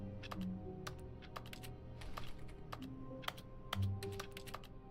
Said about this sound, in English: How am I making a keyboard sound?